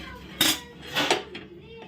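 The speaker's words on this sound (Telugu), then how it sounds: "ప్యాన్ పెట్టుకుందాం." A metal pan set down on a gas stove while preparing garlic bread, giving a couple of close clanks and scrapes in a short burst, with a lighter knock after.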